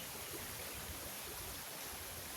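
A waterfall in the wild bush of the west coast gives a steady, even rush of falling water, constant and moderately distant with no other sounds.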